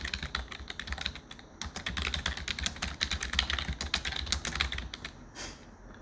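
Fingers type a title on a computer keyboard for a PowerPoint exam task, a quiet, steady patter of close key clicks with short pauses and no talking.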